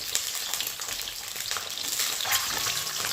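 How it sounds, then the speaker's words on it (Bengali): Potatoes frying in a pan without turmeric or salt give a loud, dense, continuous sizzle that holds steady for a few seconds with no speech. "আমি হলুদ লবণ ছাড়াই কিন্তু ভেজে নিচ্ছি"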